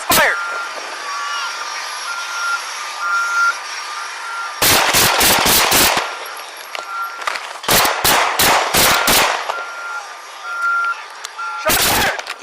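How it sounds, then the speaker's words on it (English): Gunshots ring out during a police officer-involved shooting in Appleton, Wisconsin: a rapid burst of five loud, sharp shots, a second burst of about five more, then a final shot or two, over a steady engine hum and beeping tone. "Shots fired! Shots fired!"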